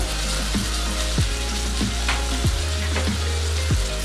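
Ground cumin, chilli, black pepper and turmeric being stirred and fried in a pan produce a dense close sizzle, with rhythmic spatula scrapes recurring about every half second over a low steady hum.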